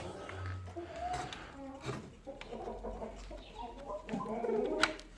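Light Brahma chickens cluck and chatter close by as they eat, amid soft pecking and rustling, with a brief louder squawk near the end.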